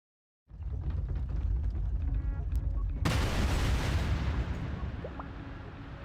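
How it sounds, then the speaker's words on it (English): A heavy explosion erupts in Blue Archive, a deep sustained rumble that begins abruptly from silence and surges into a louder, brighter blast midway before slowly fading. "What was the explosion then?"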